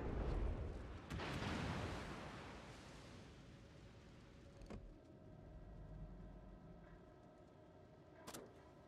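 Heavy naval gun salvos in World of Warships rumble loudly at the start, followed by a few sharp distant booms and cracks over a low continuous roar.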